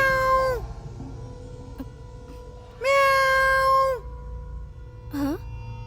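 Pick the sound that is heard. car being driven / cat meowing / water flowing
cat meowing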